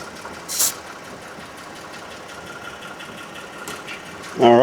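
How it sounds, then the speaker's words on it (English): A portable air compressor runs steadily for inflating off-road tires, a constant mechanical drone throughout with a brief louder burst early on and a voice starting at the end. "all we gotta do is hook up the air compressor"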